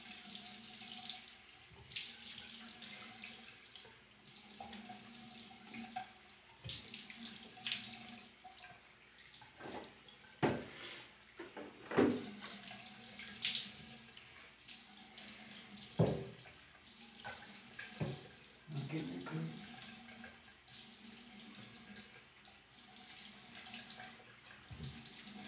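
A bathroom tap runs close up at low volume, with a steady stream, splashing and drips, and occasional louder knocks and handling sounds in a quiet room.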